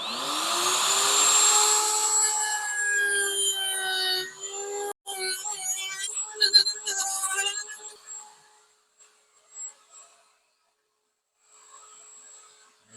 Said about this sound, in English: So I'm going to go ahead and cut the rabbets now